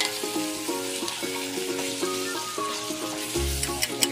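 Marinated beef for menudo sautés in a hot pan, a dense steady sizzle with light crackles and a brief low thump near the end, close-up, with background music tones and no speech.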